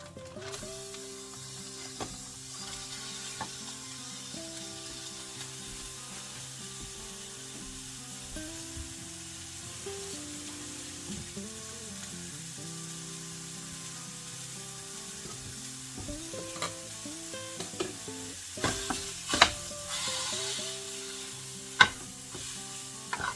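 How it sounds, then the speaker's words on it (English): Ground beef frying in a pan after bacon and onions were cooked, a steady sizzle with stirring and clinks of a utensil, busier scraping near the end, no talk. "Almost got the beef fried up."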